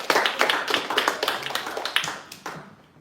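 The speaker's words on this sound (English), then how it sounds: "Let's get a round of applause for Stevie." An audience at an AI math hackathon presentation gives a short round of applause, a brisk cluster of hand claps that fades out within a few seconds, no talking.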